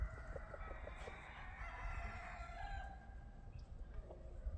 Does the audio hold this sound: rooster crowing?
yes